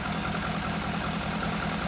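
Dusty barn-find Lotus Elan Sprint big-valve twin cam engine idling steadily, a close, even low rumble with a regular pulsing beat and no voices.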